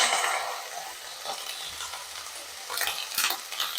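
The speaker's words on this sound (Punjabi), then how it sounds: "ਫਿਰ ਸ਼ਿਮਲਾ ਮਿਰਚ ਤੇ ਪਿਆਜ਼ ਪਾਵਾਂਗੇ ਹੁਣ ਆਪਾਂ ਪਾਵਾਂਗੇ ਪਿਆਜ਼" Onion and capsicum frying and being stirred in a pan, a steady bright sizzle with scraping stir strokes that swell toward the end, close and fairly loud with no talk.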